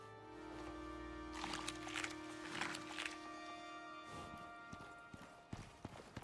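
Horses' hooves clip-clop steadily at a moderate distance in the survival video game Icarus, with a sustained tonal hum in the background and no talk.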